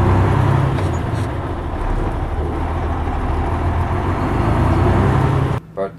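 A full-size heavy-duty truck with a 10-speed gearbox rumbles along steadily from inside the cab, a loud constant low drone, with no voices, before the sound drops away abruptly near the end.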